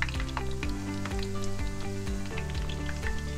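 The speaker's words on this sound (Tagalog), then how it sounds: "So make sure na mainit po yung mantika, i-drop po na natin ito." Shrimp tempura dropped into hot oil, frying with a steady crackling sizzle close by, mixed with some background music.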